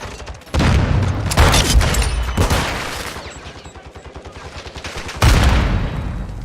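A grenade explosion and rapid gunfire in Modern Warfare II, with a sharp boom followed by dense, loud automatic bursts that fade and then hit hard again with another heavy blast near the end.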